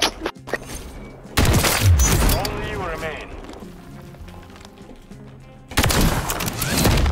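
A sniper rifle shot in a first-person video game, heard as loud broadband blasts near the start and again at the end, with talking over the quieter stretch in between.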